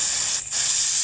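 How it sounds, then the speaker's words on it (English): Brake cleaner sprays into the valve cover channel of a 2001 Toyota Camry four-cylinder, a loud, close, continuous aerosol hiss lasting about a second with a brief dip in the middle. "I like to use a little bit of brake clean in this channel all the way around"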